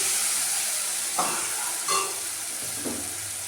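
Spice masala sautéing in a pan for a Bengali chana dal, a steady soft sizzle with a few brief stirring scrapes, close and moderately quiet, no talking.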